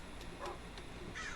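A crow caws in a video game, two or three quick harsh calls spaced across a short moment, fairly quiet against a steady low background hum.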